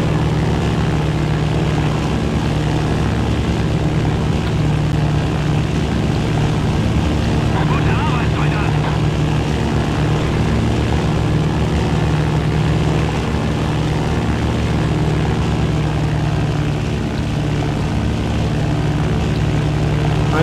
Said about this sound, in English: I know there's an airplane around here somewhere.